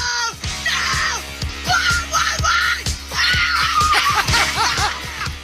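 Recorded women's screams and shrieks, loud and repeated in overlapping bursts, mixed with yelling and snickering laughter over a steady background hum.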